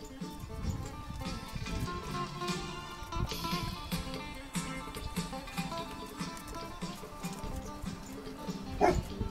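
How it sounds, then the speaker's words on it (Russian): A dog gives muffled, stifled barks with a ball in its mouth amid outdoor scuffling and yard football, with a sharper yelp near the end. "Ты даже и гавкать умеешь с мячом во рту."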